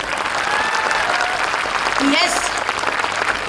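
Loud applause from a live comedy show audience in Aurangabad, Maharashtra, dense clapping filling the whole stretch with a brief spoken word and a short whistle partway through.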